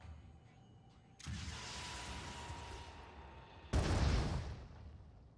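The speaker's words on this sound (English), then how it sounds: "I think it's time to break out the explosives" Explosives detonating in Phoenix Point: two heavy blasts, the first a broad roaring burst that lingers and fades, the second a louder, deeper boom with a long rumbling tail.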